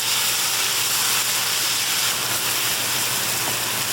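Onion, cumin seed, garlic, ginger and green chili sautéing in hot oil for a tadka, a steady loud sizzle with broad hiss that holds constant throughout with no talking.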